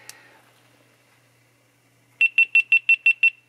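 A GoPro Hero 10 camera switching itself on while charging gives seven sharp, evenly spaced high beeps in quick succession, close and loud, after a short faint click and near silence.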